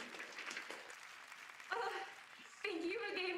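Applause from the crowd at The Game Awards 2020 fills the clip as an award is presented, with a voice briefly speaking over the clapping partway through.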